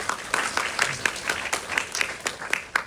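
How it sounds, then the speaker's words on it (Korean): An audience claps for film actors at a short-film screening Q&A, a brief round of moderately loud applause with distinct individual claps standing out in a fairly small crowd. "배우님들께 박수 한번 부탁드리겠습니다."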